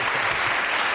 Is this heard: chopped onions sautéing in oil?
no